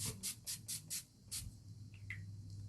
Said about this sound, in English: of the matte finish spray here.